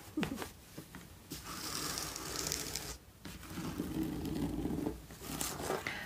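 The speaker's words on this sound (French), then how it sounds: "Alors, donc il a de fermeture éclair." Several quick pulls of the zipper on a small vanity case rasp up close, short ripping strokes separated by brief pauses, fairly quiet overall.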